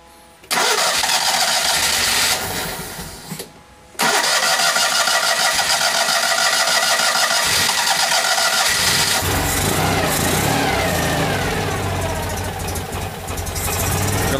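A Citroen 2CV engine cranks and catches after carburetor cleaning, then settles into a loud, steady running note close by that continues to the end, with no one talking.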